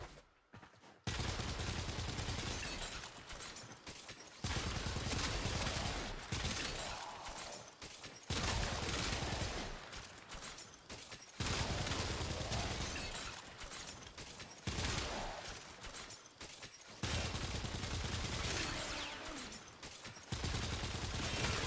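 Rapid bursts of gunfire from a weapon in the video game Warframe, fired in several sustained volleys separated by short pauses, loud and up close with no talking over them.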